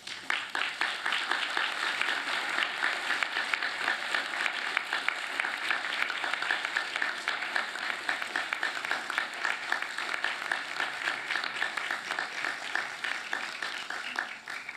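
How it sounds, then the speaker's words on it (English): Graduates at a UTS Business School graduation ceremony applaud their families and friends, a long, even, sustained wash of clapping from a large crowd in a hall. "give them a rousing round of applause because they too have earned it"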